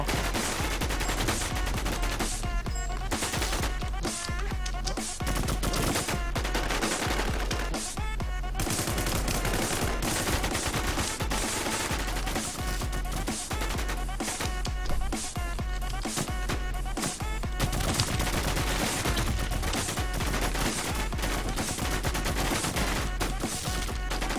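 Dense, continuous gunfire in the online shooter Warz, rapid bursts and machine-gun volleys overlapping loudly for the whole stretch with brief lulls, no talking.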